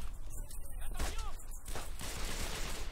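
Heavy-weapon gunfire in the World War II shooter Brothers in Arms: Road to Hill 30 on PS2, a dense fusillade of bursts and thuds across the clip, mixed with shouted orders in French.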